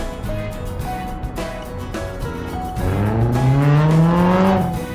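A car driving off, its engine note rising steadily as it accelerates and revs higher, loud and close, with a low rumble underneath before the climb.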